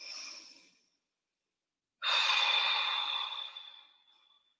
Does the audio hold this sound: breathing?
yes